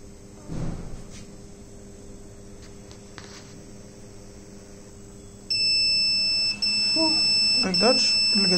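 A smoke detector buzzer sounds a shrill, steady electronic alarm tone that starts abruptly and keeps sounding loudly, with a brief break, while a person talks over it.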